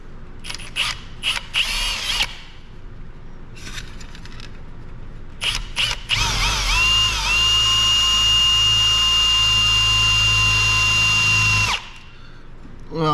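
A power drill runs in several short bursts, then grinds into metal in one long, loud, steady whine before stopping abruptly.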